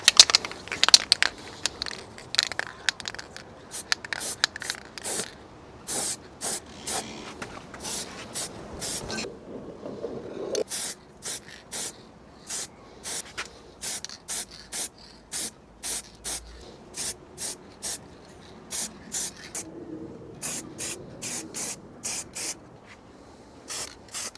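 Second, thicker coat of spray paint applied to BMW X5 steering wheel trim: a long series of short, sharp, close hissing spray bursts in a regular rhythm, with a few brief gaps between passes.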